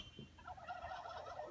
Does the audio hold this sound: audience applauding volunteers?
no